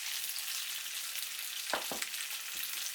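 Marinated beef frying with chopped garlic in a hot pan, a loud continuous hissing sizzle with a few soft thumps of stirring, close up and without talk.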